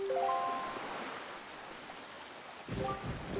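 Steady rain hisses over a stormy island in The Wind Waker HD, with brief tonal game chimes at the start and again near the end, and no voices.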